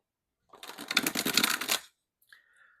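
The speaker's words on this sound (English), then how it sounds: "Now let's see how a ripple shuffle feels." Ripple shuffle of a large, new Wise Earth Medicine tarot deck: a dense, rapid flutter of cards riffling together for about a second and a half, then a soft bridging shuffle.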